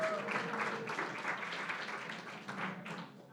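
Applause at an election watch party in Westchester County, a steady crowd clapping that fills the room with dense, even patter, easing slightly toward the end.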